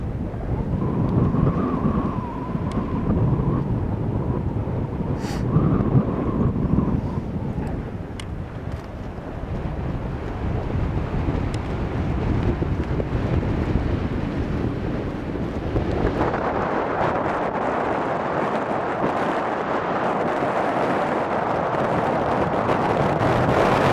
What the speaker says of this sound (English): A little windy in the saddle.